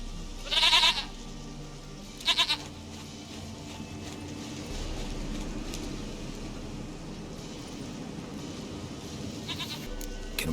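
A goat in The Witcher 3 video game gives two short, distinct bleats in the first few seconds, then a steady low ambient game background carries on alone.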